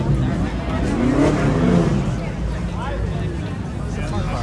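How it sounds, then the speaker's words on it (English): An Apollo IE supercar fitted with a Capristo exhaust revs nearby at a Cars and Coffee meet in Palm Beach, its steady engine roar rising and falling under crowd chatter. "Joe has Capristo exhaust on his. Sounds pretty nice."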